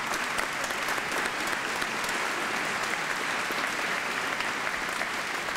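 A debate audience applauds: dense, steady clapping from a large crowd, loud and continuous throughout without a break.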